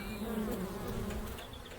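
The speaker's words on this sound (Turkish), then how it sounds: "Vız vızları." Bees or flies buzzing close by, a continuous droning hum that holds steady and slightly wavers in pitch, with no talking.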